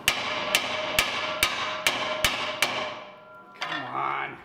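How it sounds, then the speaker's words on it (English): Seven sharp, evenly spaced hammer blows ring out on a stuck brake rotor of a 2005-2014 Mustang GT, close and loud, each strike metallic and decaying, followed by a brief clatter as the part shifts. "I'm just going to hold on to it while I hit it with a hammer and see if it'll pop loose"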